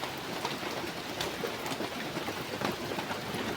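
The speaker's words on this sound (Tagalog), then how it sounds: "Ulan pa ng ulan." Steady rain falling, a constant dense hiss with scattered drop patters, fairly close and even throughout.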